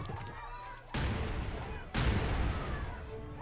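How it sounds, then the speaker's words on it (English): Two sharp, booming gunshots about a second apart in the Family Guy video game, fired at a lock, each loud and close with a rumbling decay after a quieter opening. "I gotta shoot the lock"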